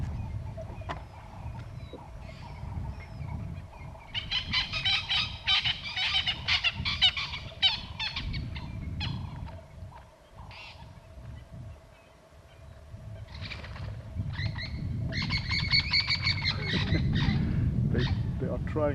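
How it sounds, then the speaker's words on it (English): Francolins raise harsh, rattling alarm calls in bursts while flushing and flying off during a morning wild dog hunt in the African bush, with a steady vehicle engine rumbling underneath. "Those birds, the francolins, they're flying away from them."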